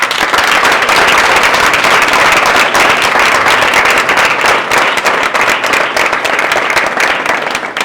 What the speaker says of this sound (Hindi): सभी अपने सम्मान में जोरदार तालियां बजाएं